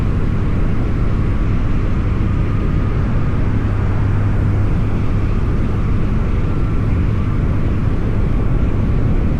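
Steady, loud, unbroken wind roar fills a closed modular helmet as a motorcycle rides at about 65 mph in a light crosswind, a dense low rumble with no change and no voices.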